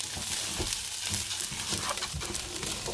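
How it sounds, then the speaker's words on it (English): Food sizzling in a frying pan while being stirred, a constant low hiss broken by occasional scraping strokes, heard close up with no voices. "I'm going to fry it for about 10 minutes"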